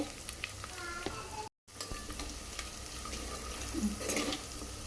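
Crackling sizzle of a tempering with red chilli powder frying in hot oil, with occasional clinks and stirring scrapes and a brief dropout near the start.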